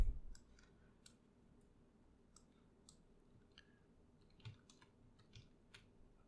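Faint, sparse keystrokes on a computer keyboard, a few soft clicks scattered across a quiet room while a command line is opened for a Laravel project; no talking.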